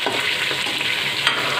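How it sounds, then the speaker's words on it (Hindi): Beef and onions frying in a pan, a steady close hiss of sizzling with a few stirring scrapes, continuous and fairly loud with no talking. "और 1 मिनट तक बीफ फ्राई करेंगे।"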